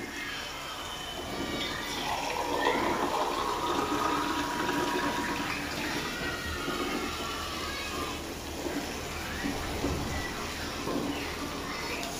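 Water is poured into a pan of cooking onion, tomato and masala, a continuous splashing and sizzling stream lasting several seconds, fairly close and steady.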